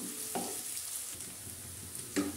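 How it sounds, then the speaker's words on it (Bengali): Onions frying for beef biryani, being stirred in the pan with a soft steady sizzle and a couple of brief scraping stirs, close and alone. "পেঁয়াজগুলো ভালো করে নেড়ে নেব।"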